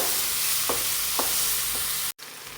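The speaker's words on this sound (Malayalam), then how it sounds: "എന്നിട്ട് നന്നായിട്ട് ഇതൊന്ന് ഇളക്കി കൊടുക്കണം." Tamarind gravy for a mackerel fry being stirred in a pan, a steady soft scraping and bubbling hiss with a few light clinks of the spoon against the pan.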